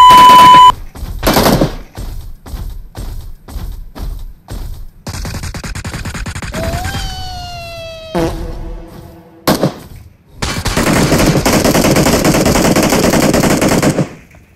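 Loud, close bursts of automatic gunfire from the mobile game PUBG Mobile, rapid rhythmic volleys broken by short pauses, with a ringing tonal whine in the middle and a long sustained burst of fire at the end.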